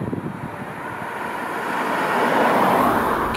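A boxy Kia e-Soul electric car drives at speed above 80 km/h, producing a steady rushing wind and road roar that gradually swells louder, with no voices.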